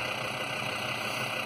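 An offroad vehicle engine idling a few meters away, a steady even hum with a constant tonal whine and no variation in level.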